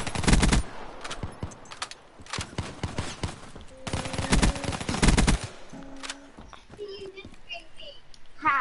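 Video game gunfire from the CUDA gun in a gun game match, with rapid automatic bursts in several volleys under an excited voice talking throughout.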